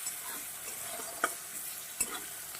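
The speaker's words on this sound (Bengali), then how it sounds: "একসঙ্গে ফোড়ন চিংড়ি মাছ সব ভাজা হয়ে যাবে" Quiet, steady sizzling of shrimp and spices frying in a pan, with two soft clicks from stirring.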